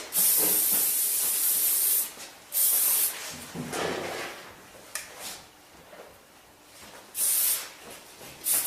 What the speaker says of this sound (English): Then I always like to finish by spraying it.